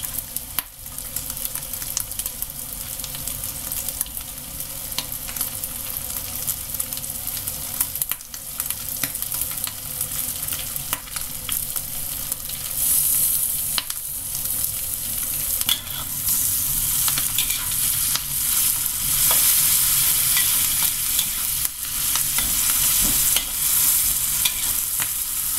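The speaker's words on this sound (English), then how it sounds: "Stir fry until it's a bit fragrant." Vegetables and curry paste stir-fry in a pan with a continuous loud sizzle and hiss, broken by occasional scrapes of a spatula, close and steady, no voices.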